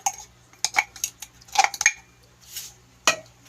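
Sugar and maja blanca ingredients being mixed in a bowl, with irregular clinks and scrapes of a utensil against the bowl and a softer swish between strikes.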